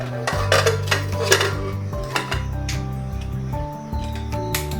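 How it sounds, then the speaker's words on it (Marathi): A pressure cooker lid is fitted on, with close metallic clanks, scrapes and ringing clinks of steel cookware in irregular bursts. "नंतर कुकरचं झाकण लावूयात."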